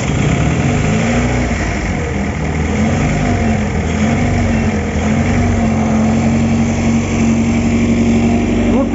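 An Opel Omega engine running at a steady idle with a constant low drone, loud and close, no revving.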